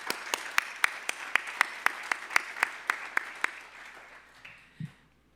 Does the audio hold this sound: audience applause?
yes